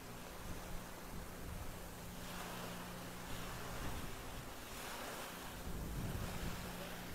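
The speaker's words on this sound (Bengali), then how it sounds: "এই যে ভাই মাঝে মাঝে পানির এরকম শব্দগুলো" Sea water washes and surges against a ship at sea, a faint, continuous rushing of waves mixed with wind noise and a low engine hum, with no voices.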